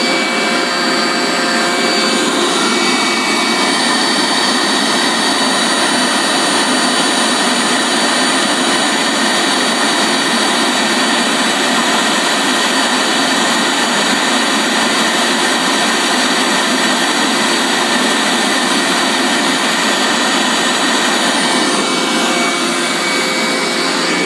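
A homemade fume hood's exhaust fan motor runs steadily and loudly throughout, a strong broadband whoosh with a constant whine, alone with no talking.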